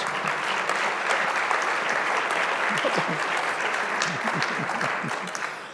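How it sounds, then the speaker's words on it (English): A conference audience applauds newcomers at a rail industry opening ceremony, dense, steady clapping from a large crowd that fills the whole stretch and tapers slightly at the end. "Will you give the newcomers a round of applause as they take their places?"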